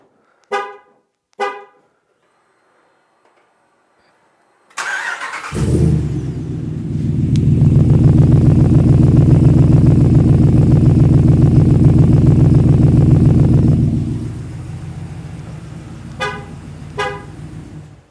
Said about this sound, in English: We put exhaust on it. MBRP exhaust. I'll let you guys hear it right now.